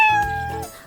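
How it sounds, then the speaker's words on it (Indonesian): A cat gives a single loud, clear, drawn-out meow, close by and alone, tapering off near the end. "Itu adalah binatang kucing."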